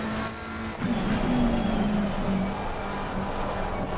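A GT3 race car in a racing sim accelerates with a loud, sustained engine roar whose pitch dips and rises as the car pulls away.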